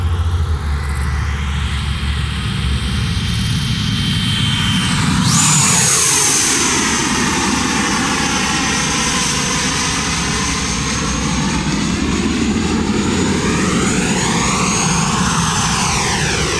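A Black Horse Viper RC jet weighing 7.2 kg, driven by a 100mm 4kW electric ducted fan on 150A, flies past with a loud, continuous whine. The pitch sweeps up and down in clear Doppler shifts as it passes close overhead.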